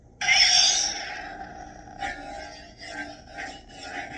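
A loud lightsaber ignition crackles on, then settles into a low, wavering, ominous hum with a few swelling swings, from a Saberforge Count Dooku lightsaber.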